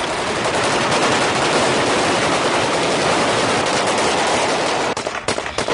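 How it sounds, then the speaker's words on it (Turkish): Continuous dense gunfire at a wedding celebration in Beytüşşebap, Şırnak, with guns fired from a balcony and roadside, a loud, unbroken barrage of rapid shots that thins into separate cracks near the end. "Silahlar hiç susmuyor. Balkondan, yol kenarından silahlar ateşleniyor."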